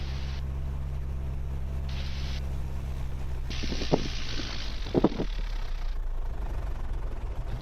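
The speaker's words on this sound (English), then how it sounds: "Engine's still running." A light aircraft engine keeps running after the fuel pump is switched off, a steady low drone heard close inside the cockpit, with a few brief clicks and bumps partway through and no speech.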